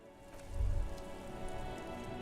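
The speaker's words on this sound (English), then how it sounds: "rain falls on the great city of Rivershaw" Rain falling steadily over a city in the video game Disco Elysium, a soft continuous patter with a brief heavier low rumble early on, no voices.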